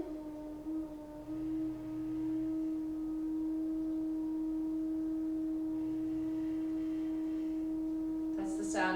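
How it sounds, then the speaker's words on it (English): Hot water pipes give off a steady, sustained hum, with a brief rattle near the end. The hum runs at a constant level the whole time and no one speaks over it. "That's the sound of my pipes,"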